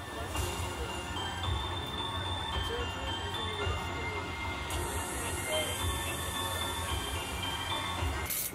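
A theme park tram ride at Halloween Horror Nights in Hollywood runs along its rails with a steady, loud rumble, a rattle of wheels and a faint hiss throughout.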